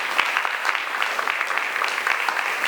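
An audience claps to celebrate Alton's first state wrestling champion, with steady, even applause from many hands throughout the short stretch.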